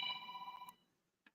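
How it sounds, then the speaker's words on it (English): A mobile phone ringtone rings loudly and steadily for under a second, then cuts off, leaving near silence before a short faint blip near the end. "My phone is ringing."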